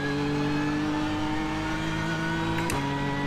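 A BMW M4 race car engine in the iRacing sim builds speed with a steady, loud, rising drone that carries strong harmonics, then gives a brief gear-shift dip near the end, with no talk over it.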